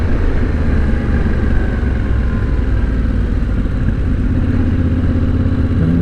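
A 2021 Yamaha Ténéré 700 adventure motorcycle on a demo ride gives a loud, continuous engine drone, heavy with wind rumble, that holds steady throughout.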